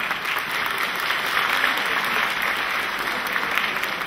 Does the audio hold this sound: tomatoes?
no